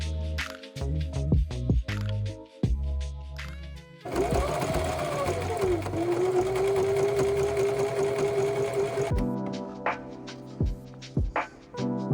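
A sewing machine runs steadily for several seconds with a rapid mechanical whir, surrounded by light background music and scattered clicks before and after.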